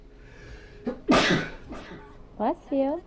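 A single sharp sneeze bursts out near and loud, preceded by a short inhale, with brief voices before and after it.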